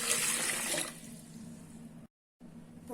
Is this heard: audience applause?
no